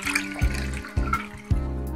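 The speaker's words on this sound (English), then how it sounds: "So we can pour water till the mark 100." Water poured into a measuring jug up to a marked line, a gurgling, splashy stream with a few bright bubbling pulses at regular intervals, close and fairly loud with no talking.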